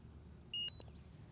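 A short pair of faint electronic beeps, one higher than the other, from a Potensic Atom 2 drone powering up, over quiet background hiss.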